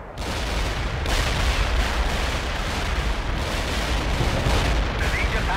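Medium artillery fire in the World in Conflict strategy game: a dense, continuous rolling roar of shell impacts and booms, loud and unbroken for several seconds, with distant battlefield noise mixed in.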